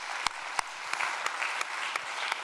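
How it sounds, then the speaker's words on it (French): Audience at an award ceremony for a natural-catastrophe research prize claps steadily at a moderate distance, with a few sharper individual claps standing out over the dense patter. "On peut les applaudir quand même"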